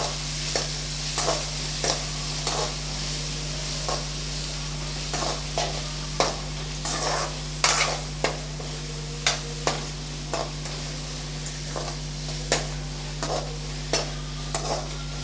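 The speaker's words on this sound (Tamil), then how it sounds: "வெங்காயத்தை நல்லா ப்ரௌன் கலர் ஆகுற வரைக்கும் நல்லா வதக்கி விட்டுக்கலாம்" Chopped onions sauté in a pan for chicken thokku, a steady sizzle broken by regular spatula scrapes and knocks against the pan every second or so, close and clear, with no voices.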